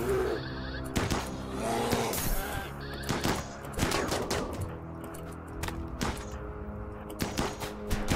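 Rapid bursts of automatic gunfire and single shots from a RimWorld colony battle, loud and dense, crackling repeatedly over eight seconds with a few bleat-like animal cries mixed in.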